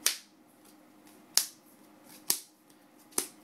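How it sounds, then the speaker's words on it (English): Four sharp, loud snaps from trading cards being shuffled come about a second apart, each with a quick crack and a short decay, over a quiet background. "The most basic card shuffle is this one."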